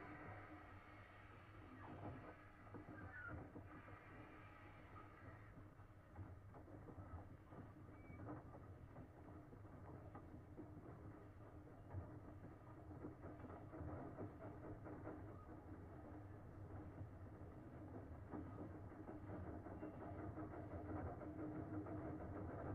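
A narrow-gauge steam train rumbles steadily along with a low engine drone and faint clicking of wheels on rails, moderately distant and continuous throughout.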